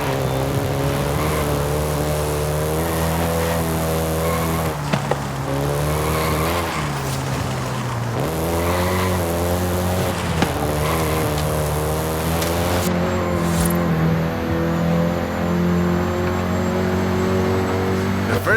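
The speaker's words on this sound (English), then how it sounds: "including the Golf GTI you're driving right now" A Volkswagen Golf GTI driving in Forza Horizon 5, with a steady, loud engine drone that rises and falls through gear changes, tires squealing at times, and no voices.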